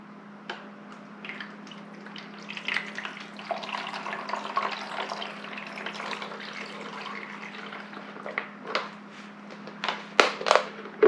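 Water from a 16.9-ounce bottle is poured into a portable off-grid ice maker through the grate at the bottom, a faint, soft trickling and splashing at close range, ending in a few drips and clicks.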